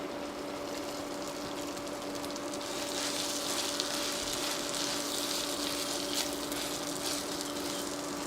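Grated potatoes tip into spices frying in a spoonful of oil over moderate heat, giving a steady hiss that swells noticeably partway through and then holds a broad, even sizzle, with a faint constant hum underneath.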